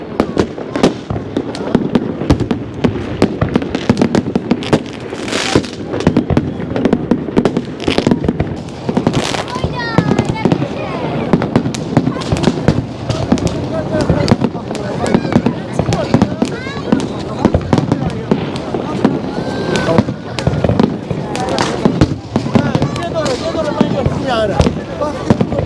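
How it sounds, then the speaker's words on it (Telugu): Fireworks burst at New Year celebrations in Azerbaijan, a dense run of sharp cracks and booming pops, some near and some far, under a large crowd and excited talk nearby. "టపాకాయలు సూపర్ వేల్తా ఉంది."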